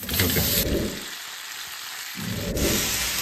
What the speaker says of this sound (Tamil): சட்னி வதங்கிட்டு இருக்கட்டும்.